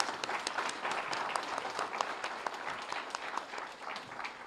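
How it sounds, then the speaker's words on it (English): An audience at an Urban Studies and Research Center launch event applauds with a steady, moderately distant patter of clapping lasting several seconds and fading slightly at the end. "Can we have a great round of applause?"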